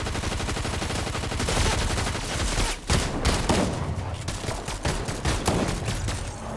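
Rapid automatic gunfire in a Fortnite match, dense bursts of shots rattling continuously with brief gaps, loud and close throughout.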